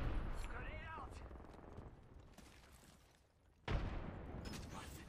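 Gunfire in an online multiplayer shooter, with bursts of shots and impacts at a moderate level, fading toward a quieter stretch before a sudden loud blast of fire resumes; players talk over it.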